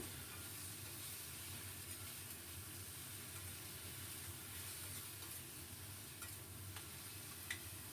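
Fish curry masala with ginger-garlic paste being sautéed in a pan for a Bengali Gurjali fish curry, giving a steady, even sizzle with a soft continuous hiss and faint stirring throughout, no talking.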